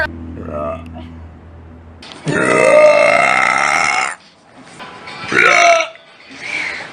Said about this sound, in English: I'm the queen of burping.